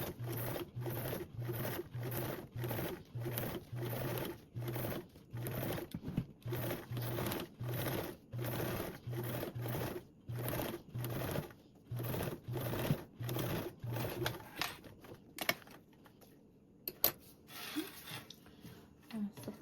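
A sewing machine top stitches the zipper seam of a convertible duffle bag, running in a fast steady rhythm of short bursts with brief stops, then slowing to scattered clicks and handling near the end.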